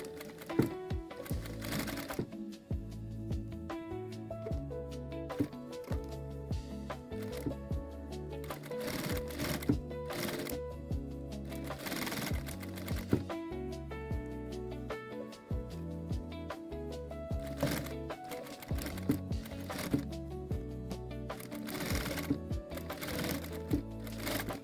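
A sewing machine stitches a seam on a teddy jacket in short rhythmic runs of rapid needle clatter, starting and stopping, with music playing steadily underneath.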